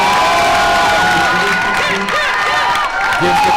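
A crowd at a junior ITF tennis singles final cheers and applauds after an ace, with loud whoops and shouts rising in a dense, sustained roar of clapping.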